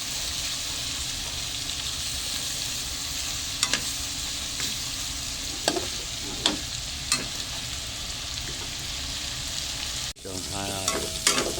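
Food frying in a pan, a continuous loud sizzle broken by several sharp stirring scrapes, with a clatter and a change of texture near the end.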